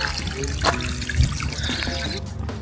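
Water trickles and splashes at a water intake in the High Tatras, a close, steady liquid dribble running throughout, with a few sharper splashes and faint background sounds.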